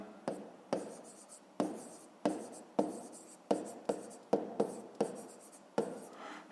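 Pen writing math notes by hand on paper in short, quick strokes, roughly a dozen scratchy bursts with brief pauses between them, close and clear with no talking.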